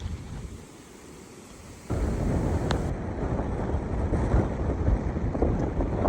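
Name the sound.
strong north-westerly wind blowing outdoors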